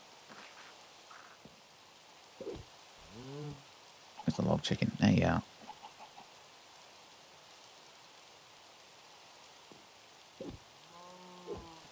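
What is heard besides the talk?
rain falling in the video game Minecraft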